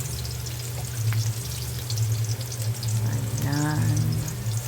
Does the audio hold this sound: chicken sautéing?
yes